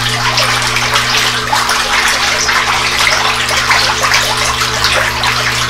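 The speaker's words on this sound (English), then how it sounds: "There's the biodiesel coming into the bottom." Biodiesel pours steadily into the bottom of a water tank, a constant hissing, rushing flow with a low steady hum underneath, close and unbroken throughout.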